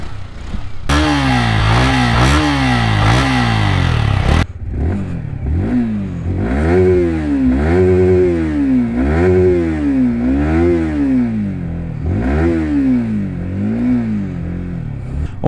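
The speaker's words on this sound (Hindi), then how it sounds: "मैं आपको इसकी थोड़ी सी एग्जॉस्ट साउंड भी" A 2024 Yamaha R15 V4 155cc sport motorcycle engine revs hard, then rises and falls through several throttle blips with a loud, rasping exhaust note close by.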